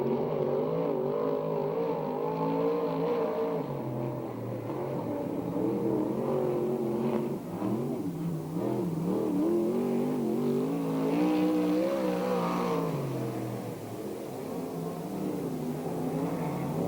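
USAC/CRA sprint car lapping Perris speedway, a loud, sustained engine roar with rising and falling pitch through the corners, heard close and continuous for the whole lap.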